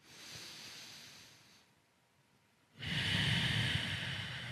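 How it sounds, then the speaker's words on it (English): Slow, controlled breathing in and out through the nose during a yoga hip stretch: a soft hissing breath, a quiet pause, then a stronger, louder exhale, close and intimate. "you want to breathe in and out of your nose"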